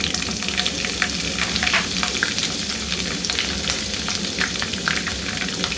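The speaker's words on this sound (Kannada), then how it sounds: "ಈಗ ಇದನ್ನು ಚೆನ್ನಾಗಿ ಫ್ರೈ ಮಾಡ್ಕೊಳ್ಳೋಣ" Lentils, curry leaves and green chillies frying in hot oil, with a steady loud sizzle and crackle running throughout, heard up close without talk.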